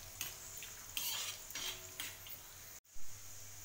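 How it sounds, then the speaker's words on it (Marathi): Raw peanuts are stir-fried in a pan for a Marathwada garlic chutney, with close scraping and stirring strokes of a utensil against the pan, a few separate scrapes, then a sharp knock, no talk. "8 ते 10 कच्चे शेंगदाणे टाकायचे,"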